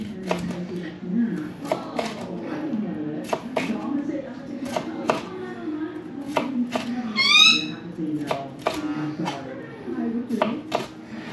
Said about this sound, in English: break out this part here with the stem on it and cut it in small strips